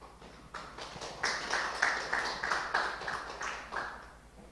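An audience gives a moderate burst of applause welcoming a lecturer at a comparative law lecture, fairly distant and sustained, rising and fading over several seconds.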